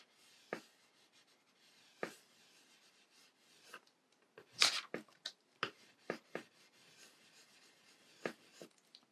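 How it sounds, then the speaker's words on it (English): Soft scratchy rubbing strokes on paper, a crayon dragged sideways in short separate bursts with quiet pauses between, close up and fairly faint. "we can try using the side of the crayon"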